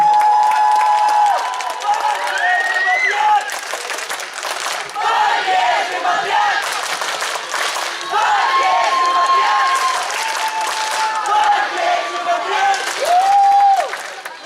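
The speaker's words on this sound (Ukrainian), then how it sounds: "Зустрічаємо їх оплесками і слухаємо" An audience claps to welcome children performing at a talent show, a long sustained round of applause mixed with cheers and shouts, swelling and dipping while voices carry over it.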